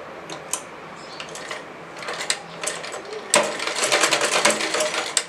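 A sewing machine stitches a designer blouse patch, starting with a few scattered clicks and then running as fast, steady mechanical chatter that grows louder near the end.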